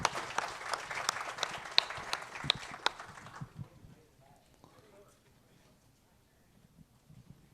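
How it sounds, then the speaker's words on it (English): Audience applause for about three and a half seconds, crisp claps fading out, then quiet murmuring and faint talk. "Let's give him a round of applause for all their hospitality."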